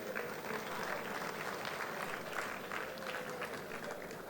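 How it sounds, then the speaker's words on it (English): Audience at a gala dinner and awards night applauding together, a steady dense wash of many hands clapping at moderate level, continuous throughout with no voices standing out. "Let's clap for ourselves."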